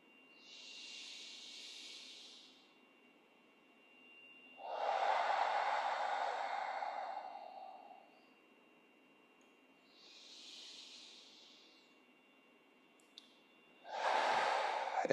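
Slow, deep breaths alternate calmly: soft airy inhales and longer, fuller exhales, each lasting several seconds, close and quiet with silence between.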